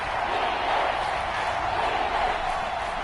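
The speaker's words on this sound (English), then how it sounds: "the crowd getting into it as we come up on a big 3rd down" Stadium crowd in an American football video game gives a steady, dense roar of cheering ahead of a big third down, holding at an even, fairly loud level throughout.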